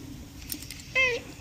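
A cat gives one short, clear meow near the mic after quiet rustling, with a faint voice heard briefly in the background.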